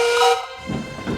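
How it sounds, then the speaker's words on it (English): A steam engine's whistle gives one short, bright, shrill blast, then cuts off into a lower hissing rumble of steam. "Duncan got ready with his whistle"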